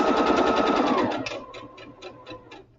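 Close sewing machine back stitching: a fast, loud mechanical whir that slows after about a second into slower, separate ticking stitches before winding down to quiet.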